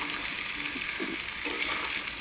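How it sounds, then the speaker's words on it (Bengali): Pointed gourd curry being stirred in a frying pan, a steady broad sizzle with soft scraping strokes of a spoon, close and continuous throughout. "একসাথে দিয়ে নাড়তে থাকি, আস্তে আস্তে পটলগুলো নরম হয়ে যাবে"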